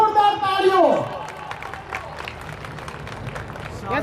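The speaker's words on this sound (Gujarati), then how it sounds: "જોરદાર તાળીઓ." A hall audience at a community souvenir-release ceremony breaks into applause, its scattered claps and crowd noise following a brief amplified voice at the start and continuing at moderate level to the end.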